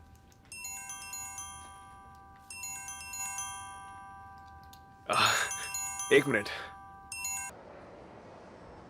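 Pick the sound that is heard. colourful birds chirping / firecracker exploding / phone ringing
phone ringing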